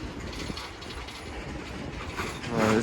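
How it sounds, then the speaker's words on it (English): A long freight train near the International Bridge on Unity Island, slowing to a stop, with a steady mechanical rumble and faint metallic squeals rising near the end. "This train is sure gonna come to a stop."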